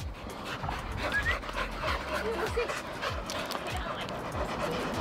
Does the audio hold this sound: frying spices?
no